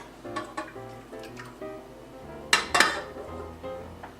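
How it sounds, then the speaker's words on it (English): Eggs go into a mixing bowl for a dream bar filling in a home kitchen: light taps and clinks, then two sharper cracks or knocks against the bowl, close and fairly quiet. "I'm going to first put in my eggs"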